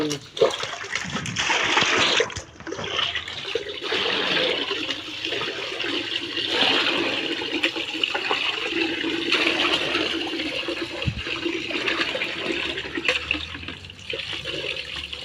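Water gushes and splashes steadily into a pot, a continuous rushing pour with a voice speaking faintly beneath it.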